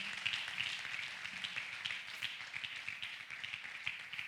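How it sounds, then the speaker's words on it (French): A church congregation at a communion service claps along steadily in a dense, continuous patter of many hands, fairly loud and sustained without a break. "Give a clap offering to the Lord."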